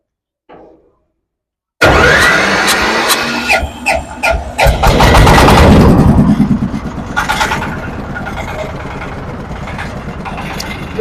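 A Japanese engine on a paddy, wheat and maize threshing machine starts loudly after a short quiet pause, then revs up in uneven bursts and settles into a steady running clatter close by.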